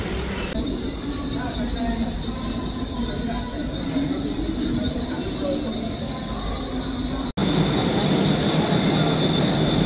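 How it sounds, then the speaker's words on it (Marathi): Trains at CST station in Mumbai during rain, with steady rolling rail noise and wheel squeal throughout, a brief dropout, then louder continuous train rumble nearby, with people faintly talking. "हे आहे आपलं CST स्टेशन"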